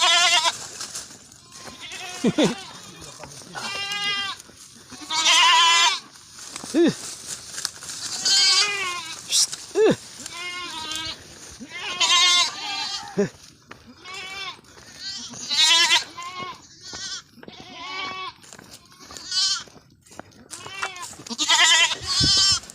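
Goats bleat repeatedly, overlapping calls near and far, loud wavering cries with people talking in between.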